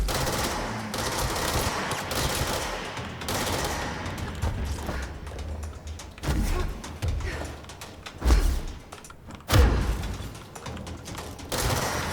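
Dense, sustained gunfire from the video game Alan Wake's American Nightmare rattles on almost without pause, with heavier booming shots and thuds breaking through now and then, loud and close, and no voices.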